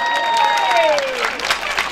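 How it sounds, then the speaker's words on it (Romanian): Applause and cheering from a concert crowd during a live stage show, a continuous bright clatter of many hands while a sustained sung or held tone glides downward over it. "Aplauze, aplauze"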